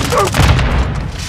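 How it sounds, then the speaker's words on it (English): Flash grenade going off in Call of Duty: Modern Warfare II multiplayer, a loud close boom with a ringing, washed-out tail lasting about a second, with a brief voice callout mixed in. "Throwing flash grenade!"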